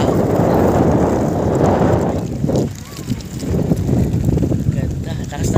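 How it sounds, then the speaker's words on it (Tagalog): Strong seaside wind in Naga, Cebu rushes and buffets the microphone with a loud, continuous low roar that dips briefly and then surges again, while a voice talks underneath. "Ganda, lakas ng hangin dito."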